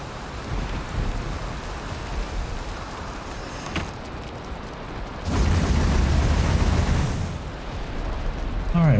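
Steady rain in the Valheim video game, a continuous broadband hiss that swells louder partway through, with faint background game sounds and no clear talk.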